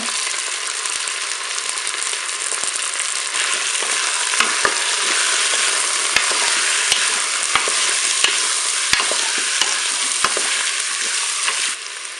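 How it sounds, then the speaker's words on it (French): Onion pieces browning in olive oil in a Cookeo multicooker pot give a loud, steady, close sizzle, with scattered sharp ticks and clicks of stirring throughout. "Puis à 4 minutes de fonction dorée, je vais ajouter les morceaux d'oignon"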